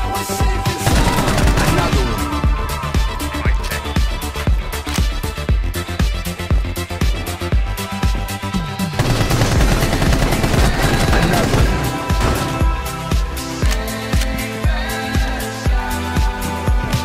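Rapid, dense gunfire from a video game, with bursts of shots running almost without pause and layered over other game sounds, loud throughout.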